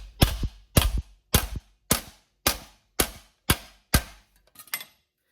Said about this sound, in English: I'm going to hammer that pucker into itself